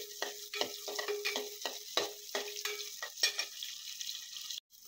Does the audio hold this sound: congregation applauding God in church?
no